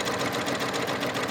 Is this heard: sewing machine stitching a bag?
yes